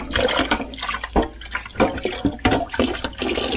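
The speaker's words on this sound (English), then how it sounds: "And then you just rinse the pulp out." Running water splashes and gurgles in uneven bursts as juicer pulp is rinsed out of the machine's parts, close and fairly loud, with no voices.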